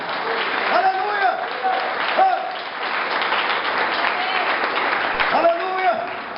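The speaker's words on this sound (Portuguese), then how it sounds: "aplaude ao Senhor nessa noite" Congregation applause during a night service at an evangelical church campaign, a steady wash of clapping hands with a preacher's raised voice and exclamations rising over it.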